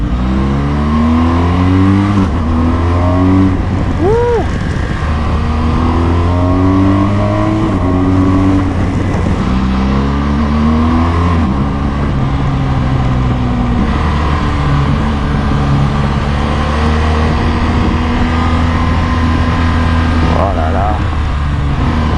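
BMW R1200GS motorcycle engine pulling steadily on a ride, with rising and falling gear-change sweeps under constant wind roar and a brief voice exclamation.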